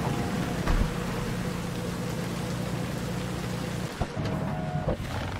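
Steady rain hisses and patters continuously in the video game Cyberpunk 2077: Phantom Liberty, a dense wash of noise with a low rumbling hum underneath and a couple of faint knocks.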